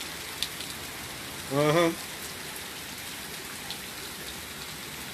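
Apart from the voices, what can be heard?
rain falling on a rainy stormy day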